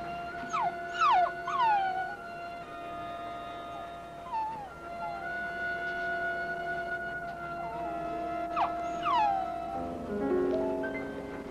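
A dog in a 1970s television crime drama howls and whimpers in several rising and falling cries, moderately close, over a steady tonal background.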